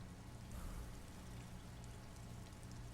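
Steady, fairly quiet rain in Disco Elysium, a soft continuous hiss and patter holding evenly throughout with a low rumbling bed underneath and no voices.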